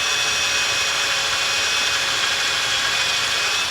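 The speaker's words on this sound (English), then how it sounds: "Now you want to be very careful as you're cutting or drilling into this." Forstner bit boring into a wooden fishing decoy, a steady, loud, continuous power-tool whir with a grinding cutting edge that holds unbroken for the whole stretch, with no voices.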